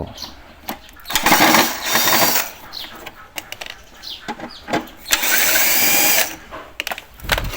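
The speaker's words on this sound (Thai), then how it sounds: "ผม ใช้สว่านนะเพื่อความรวดเร็วในการ" A power drill whirs in repeated short bursts while removing screws from an electric fan, with clicks and rattles of metal between runs and a longer buzzing stretch near the end.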